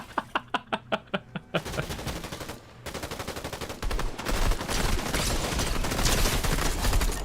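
Rapid gunfire in the video game Fortnite, starting with a run of evenly spaced single shots, then building into dense, continuous bursts and chaotic firing that grows louder toward the end.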